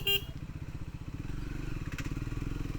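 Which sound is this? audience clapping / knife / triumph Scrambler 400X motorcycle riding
triumph Scrambler 400X motorcycle riding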